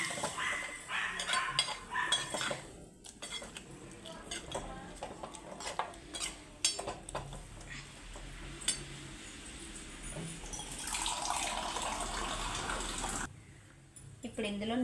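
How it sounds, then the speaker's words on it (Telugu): Water is poured into a pan of soya chunk (meal maker) curry, a sustained splashing rush near the end after scattered clinks of utensils and pans close by. "ఇప్పుడు దీంట్లో తగినన్ని వాటర్ వేసుకుందాం"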